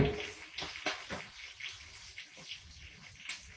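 Water poured into a pot of cooking noodles, a soft, steady splashing and trickling with faint bursts. The sound is quiet and nearby, and no one speaks.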